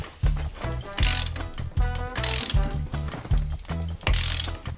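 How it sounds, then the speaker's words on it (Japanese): A ratchet wrench tightens crank bolts on a fixed-gear bike, giving close, repeated bursts of fast clicking with short pauses between strokes and some louder rasping moments. "そしたらボルト締めていきます。"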